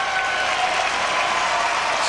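Crowd applause at the 2005 US Open, a tennis match between Rafael Nadal and Scoville Jenkins, as spectators clap steadily and densely throughout, loud and sustained like a stadium crowd urging a player on.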